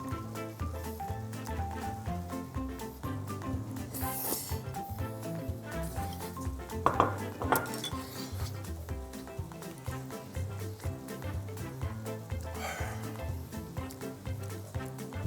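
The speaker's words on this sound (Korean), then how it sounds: "자, 지글지글 하고 있죠?" Spicy Korean sundae stir-fry sizzling in a pan, a continuous crackling hiss with occasional stirring and scraping sounds, close and moderately loud, with no talking.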